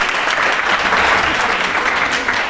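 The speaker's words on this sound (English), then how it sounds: "Clapping." Schoolchildren clapping together at an international school in India, a dense steady burst of applause from a classroom group, loud and close, with no talking over it.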